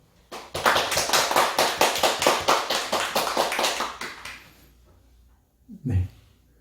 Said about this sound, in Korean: 우리 박수로 생일 축하드리겠습니다.